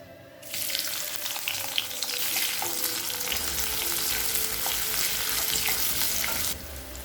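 Sliced onion sizzling in hot oil in a kadai with cinnamon, clove and fennel seeds while cooking egg rice, a steady loud frying hiss with occasional stirring scrapes, no voices.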